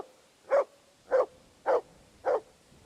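The dog Mutt barking in the video game Kingdom Come Deliverance 2, five short, evenly spaced barks at a steady rhythm, fairly close against a quiet background.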